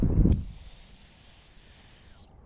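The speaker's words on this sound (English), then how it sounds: "as I throw it, I'm going to roll a whistle" A single dog training whistle is blown in one long, steady, high-pitched blast of about two seconds, loud and close, ending abruptly.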